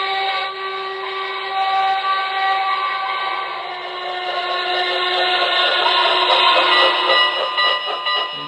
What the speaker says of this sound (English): You hold the whistle button down and then you roll the throttle up and down to make the quilling sound.